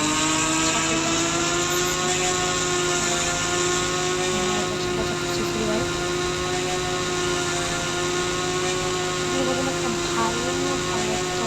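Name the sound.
motorcycle engine, about 175 cc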